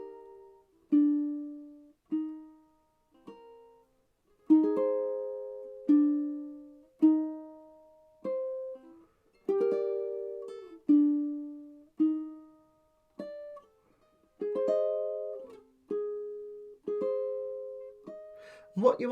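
Slow fingerstyle ukulele playing of a song, with plucked notes and small chord groups ringing out one at a time in an unhurried, halting rhythm, close and clear with no talking.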